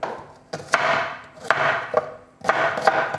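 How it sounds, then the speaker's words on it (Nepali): Onion being chopped with a knife on a board at home, sharp cutting strokes in quick bursts separated by brief pauses, close and clear with no voices. "प्याज सर्र काट्छु यसरी।"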